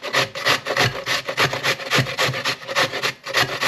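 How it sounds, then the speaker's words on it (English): Carrot rubbed in long strokes against a grater for coleslaw, giving a steady rhythmic rasping scrape that repeats about twice a second, close and fairly loud, with no talking. "So I'm just going to grate some carrot in."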